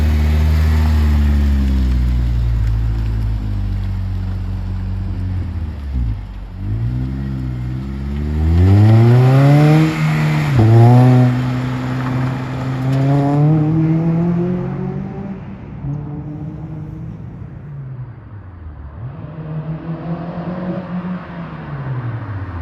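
An 8th gen Honda Civic coupe with a K24 engine swap accelerates hard on a test drive. The engine climbs through repeated rising revs with a drop at each gear change, loud and close from inside, then eases off near the end.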